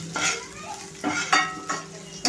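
Ginger and garlic frying in a kadhai for a tempering, browning in hot oil: sizzling with a few sharp stirring scrapes spaced through it, close and moderately quiet, no talking.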